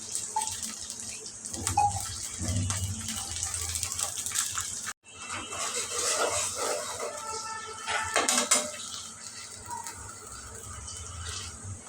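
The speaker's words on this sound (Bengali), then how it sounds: "একটু জল দিয়ে দিলাম" Water is poured into a pan of curry made with taro and hilsa fish, a splashing gush that runs for a few seconds, breaks off briefly, then resumes and trails away with a few light clatters.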